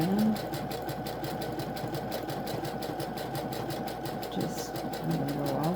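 Sewing machine running steadily as it stitches back over an existing seam while repairing crop pants, a fast even mechanical whir with rapid needle clicks, close and continuous for several seconds.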